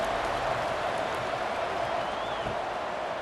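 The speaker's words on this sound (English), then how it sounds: "this crowd is buzzing after that last score" A video-game football stadium crowd in EA Sports College Football 26 keeps up a steady, dense roar and murmur with no breaks, a broad wash of many voices filling the whole stretch.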